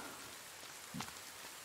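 Rain falls in the survival video game The Forest, a faint, even patter with one brief louder splash or thud partway through.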